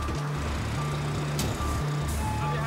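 A lorry reverses at a port in Waterford, its reversing alarm repeating in a steady, evenly spaced beep over a low, close engine drone.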